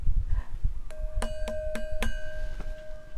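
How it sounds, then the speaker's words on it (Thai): A temple bell in a bell tower at a Thai temple is struck several times in quick succession, clear ringing tones that sustain and fade, with low background rumble. "เป็นเสียงอะไรคะเป็นเสียงระฆัง"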